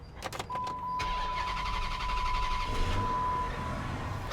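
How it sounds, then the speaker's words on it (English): A 2005 Dodge Magnum with a charging fault cranks briefly with a few clicks and a steady electrical whine, then fires and settles into a smooth, close idle. "let's crank this engine over"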